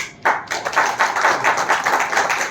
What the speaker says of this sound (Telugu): చప్పట్ల హోరులో ఆయన ముంచెత్తుతారు